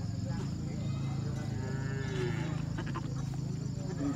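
Goats at a mountain livestock fair market in Vietnam, with an animal call rising briefly from a constant, dense market din, with faint voices in the background.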